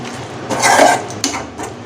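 Soya chunks chukka stirred in a pan, a few close scraping and clinking strokes of a utensil against metal, the loudest near the middle and shorter knocks after, with no talking.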